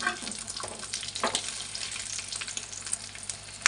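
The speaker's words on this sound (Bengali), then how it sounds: "এই যে এখন লাল লাল করে ভাজা হবে।" Fish roe fritters frying in hot oil, a steady crackling sizzle with scattered sharper pops, heard close and continuous with no talking.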